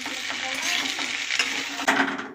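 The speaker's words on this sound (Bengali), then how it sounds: "আলু ভাজা হচ্ছে" Potatoes fry in a pan while being stirred, a close, dense sizzle with scraping strokes and a sharper clatter near the end of a brief burst.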